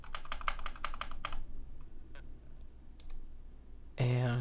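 Rapid bursts of typing on a computer keyboard, with clustered clicks followed by a few scattered keystrokes, close and fairly quiet, ending as a person begins talking.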